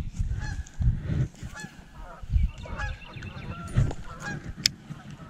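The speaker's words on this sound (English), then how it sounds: "Got geese over top of us." A flock of geese honks overhead at a lake during early spring bass fishing, with repeated loud calls coming in irregular bursts and close by above a steady outdoor background.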